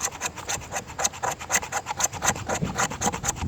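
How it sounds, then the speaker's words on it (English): A knife shaves curls off a piece of resinous fatwood in quick, rhythmic rasping strokes, close and crisp, about a dozen scrapes with no talking. "Take some shavings from a piece of fatwood"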